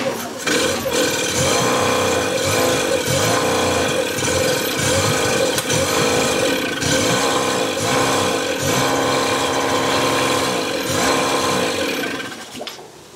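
A 15 hp outboard motor, either a Yamaha two-stroke or a Suzuki four-stroke, struggling to run with a fuel blockage, a loud, continuous rattling engine drone held close up with uneven surging throughout.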